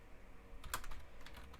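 Keystrokes on a computer keyboard come in a short, close burst of quick clicks, with a few louder taps in the middle and no talking.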